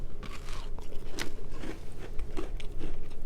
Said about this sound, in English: A little bit of crunch, a little bit of chew.